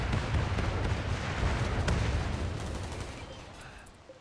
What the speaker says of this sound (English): Here they go. Rockets away.